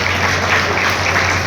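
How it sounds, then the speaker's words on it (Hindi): Brief burst of crowd applause at a Kurmi community gathering, a dense, even roar of many hands with a low hum underneath, loud and continuous for a moment. "जोरदार तालियां हो जाए"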